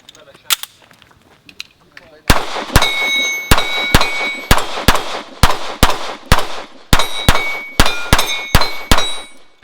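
An Arex Rex Zero 1 pistol fires a rapid string of about a dozen loud shots outdoors, each followed by a ringing metallic clang from struck steel targets, after a few quieter clicks.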